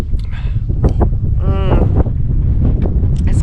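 Gusty wind buffets the microphone in a steady low rumble, with a brief voice and a few faint clinks mixed in.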